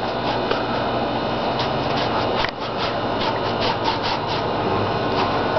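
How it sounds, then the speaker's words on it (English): An almost dry paintbrush scrapes in steady, close strokes over a monster mud Halloween tombstone, giving a continuous dry rasping hiss. "Doing this with an almost completely dry brush just to mark it out a little bit."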